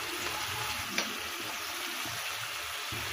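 Spices for mung dal, red chili, turmeric and coriander powder with a splash of water, stir-frying in a pan as a steady soft sizzle with faint stirring scrapes and one brief clink.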